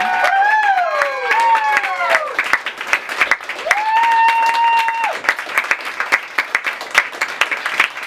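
An audience at the close of a live comedy show applauds and cheers in a dense, sustained wave, with a few high, sliding whoops and whistle-like tones rising over the clapping.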